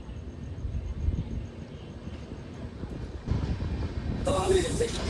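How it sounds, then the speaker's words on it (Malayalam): The Island Express to KSR Bengaluru pulls out of Kanyakumari station with a low rumbling roll that grows louder, with rattling carriages and a brief squeal near the end, while people talk in the background. "കന്യാകുമാരിയിൽ നിന്ന് നമ്മുടെ ഐലൻഡ് എക്സ്പ്രസ് അല്ലെങ്കിൽ KSR ബംഗളൂരു എക്സ്പ്രസ് എടുത്തിരിക്കുകയാണ്"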